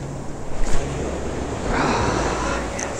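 Ocean surf waves wash onto a California beach in a steady rush of breaking water, mixed with wind noise on the microphone.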